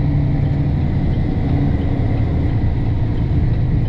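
Truck engine running in high sixth gear, a loud, steady low rumble with a constant drone throughout and no talking.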